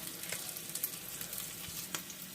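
Bacon and onions fry in a pan, a constant quiet sizzle and crackle with a few small pops, close and unbroken by talk.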